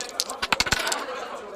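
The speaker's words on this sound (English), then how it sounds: "You're just in time to make a dice roll" Dice rattling and clattering across a table during a tabletop roleplaying game, a quick burst of sharp clicks that lasts about a second and then settles.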